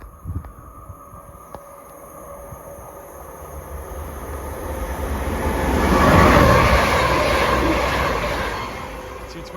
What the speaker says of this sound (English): Immediately coming through now, we have our second cross-country service of the day.